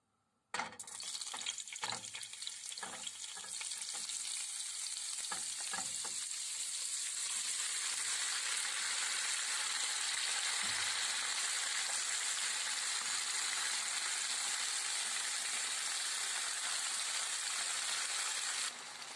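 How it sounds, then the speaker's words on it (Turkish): Cooled broad beans tipped into two spoonfuls of hot oil in a pan, a few clattering drops as they land, then a strong, continuous close sizzle that swells and holds steady without talk. "Şimdi soğuyan baklamı ekleyip bir miktar kavuracağım."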